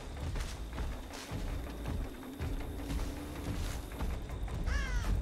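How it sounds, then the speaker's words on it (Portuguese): A crow caws in a video game over a dense, steady ambient background, with several harsh calls spread through the clip and a sharper, closer caw near the end. "Aquele corvo desceu, mas acho que ele desceu por causa do meu guarda"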